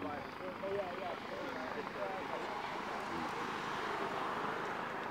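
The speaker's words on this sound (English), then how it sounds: "There's the Coast Guard helicopter." A Coast Guard helicopter passes overhead, its steady rotor and engine roar filling the scene continuously, with faint voices and crowd murmur mixed underneath.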